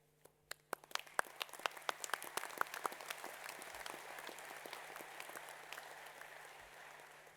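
A graduation ceremony audience at Massey University in Manawatū applauds university staff, starting with a few scattered claps that swell into sustained, dense applause from a large crowd, heard from a distance in a big hall.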